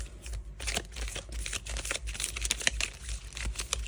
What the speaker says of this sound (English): Let's give them a quick shuffle.